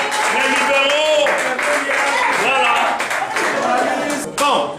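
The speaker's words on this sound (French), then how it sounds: "On applaudit très fort." An audience at an anniversary celebration applauds loudly in a continuous wash of claps, with voices or music layered over it the whole time.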